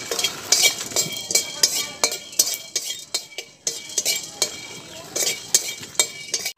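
Whole cloves, a piece of cinnamon, peppercorns and cardamom pods frying in a kadai, dominated by rhythmic metal spoon scrapes and clinks against the pan over a faint sizzle.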